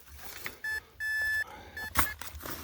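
Several electronic beeps from a metal detector sound in short and longer tones, quiet and irregular, over faint rustling and a brief clatter.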